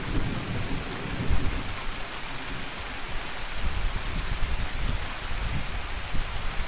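Steady rain pours down with low thunder rumbling beneath it, a dense, continuous hiss with no voices.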